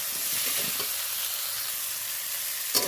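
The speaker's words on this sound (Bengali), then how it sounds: "ভালো করে আমি এটা ভেজে নেব সবজিটা আলু আর কাঁচা কলা" Potato and raw green banana pieces fry in a pan with a steady, close hiss of sizzling oil, a few stirring scrapes early on and a sharp clink near the end.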